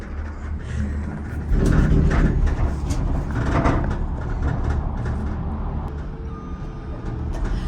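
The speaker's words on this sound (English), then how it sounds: "the cart will shake and it makes such loud noises" A shaking cart on a gondola-style ride at Breckenridge, Colorado, rattles and rumbles loudly, with creaks and clunks over a continuous low roar and occasional faint beeps.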